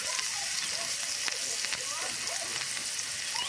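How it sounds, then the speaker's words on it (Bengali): Catla fish coated in salt and turmeric fries in hot oil in a wok, giving a steady, even crackling sizzle with small pops, moderately quiet and unbroken throughout. "মাছটা ভাজা হচ্ছে।"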